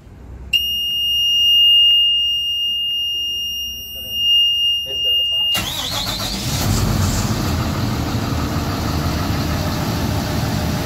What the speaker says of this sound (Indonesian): sebelum digerakkan, mesin yang menggunakan bahan bakar solar ini dipanaskan terlebih dahulu